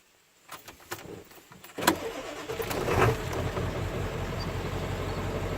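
A Ford 7.3L Powerstroke diesel, midway through valve cover gasket and injector harness work, cranks after the glow plugs warm, then catches and settles into a loud, steady running clatter.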